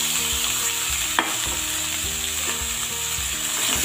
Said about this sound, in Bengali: ফোড়নটা খুব ভালোভাবে ভাজা হয়ে গেছে, এবার আমি তরমুজের খোসার অংশগুলো দিয়ে দেব।